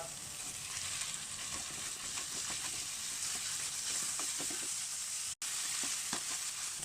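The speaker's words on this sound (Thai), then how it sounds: "จากนั้นเอาหมูสับลงไปผัด" Minced pork stir-fried with chili and garlic in a pan, a steady close sizzle with repeated spatula scrapes and stirring taps, brief dropout near the end, no talking.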